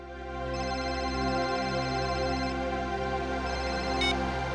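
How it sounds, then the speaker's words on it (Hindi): A phone rings in a tense TV crime-drama scene, a steady electronic ringtone with layered harmonic tones that sounds continuously and fairly loud, with no voices over it. "फोन उठाओ प्रद्युमन,"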